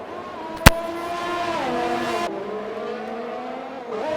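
Racing cars brake in the RSF1 racing video game at a Vietnam circuit, steady engine whine sliding down in pitch as the car slows, with one sharp click near the start.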